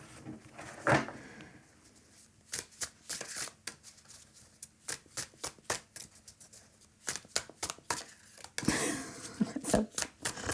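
A deck of new tarot cards is handled and shuffled close up, with bursts of riffling and flicking, dense rapid card slaps in clusters, and a few pauses between handfuls, with no talking.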